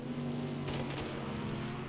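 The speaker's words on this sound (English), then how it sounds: "Nice pop of crackle from the exhaust of Storm there" A GT3 race car in the Project CARS 2 video game, racing at Bathurst, roars steadily at close range with a few brief exhaust pops and crackles breaking through the engine drone.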